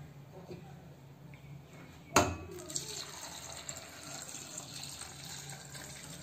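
Water pours onto poha flattened rice being rinsed in a kitchen, a sudden splashing gush that starts after a quiet stretch and then settles into a softer trickling wash, close by.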